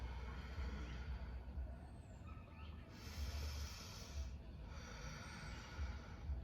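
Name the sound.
slow deep breathing during yoga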